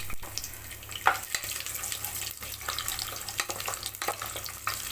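Garlic fries in a pan for beetroot rice, giving a close, busy sizzle with scattered pops and a few sharper clinks or stirring knocks, and no voices.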